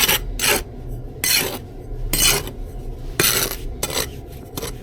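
A sand and cement mix being brushed and piled over paving joints to stop weeds: repeated short, gritty scraping strokes in an irregular rhythm, close and fairly quiet, with no talking.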